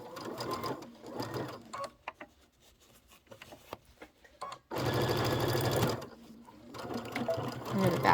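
Sewing machine stitching a Santa cinch sack, a steady motor whir with quick rhythmic needle beats in bursts, pausing between runs with light handling noises in between.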